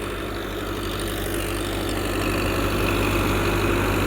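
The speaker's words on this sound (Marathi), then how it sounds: "एकदम मापामध्ये ट्रॅक्टर चालू आहे." A Digitrac PP46 tractor engine runs steadily nearby while wheat is harvested with a Mahabali thresher. It makes a loud, continuous low rumble with a constant hum, unchanging throughout and with no voices.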